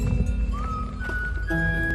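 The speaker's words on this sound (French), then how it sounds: "Belle cloche." A cowbell hanging on a cow in an Alpine pasture near Beaufort in the northern Alps gives a few close, bright metallic clanks, with ringing tones that hold over a low outdoor rumble.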